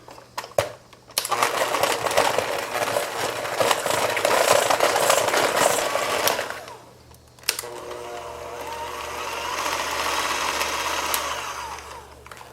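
Pumpkin roll filling being mixed with powdered sugar and maple extract under a loud electric mixer, whirring steadily for several seconds, briefly dropping, then resuming at a slightly different pitch.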